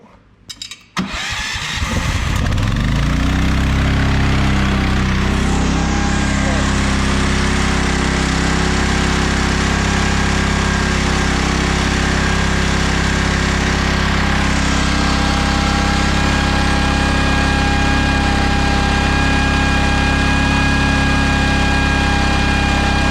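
A small gasoline engine, Briggs or Honda, starts after a brief pull and then runs steadily and loudly up close, a constant droning hum with no talking.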